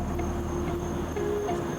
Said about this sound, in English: that you can hear off in the background is a narrow-mouthed frog